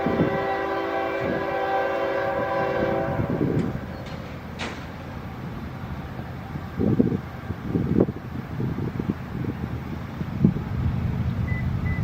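A train on the outer track, seen from a railfanning trackside spot, sounds a sustained horn, then rumbles past with rattling, clanking wagons and loud, steady rolling noise.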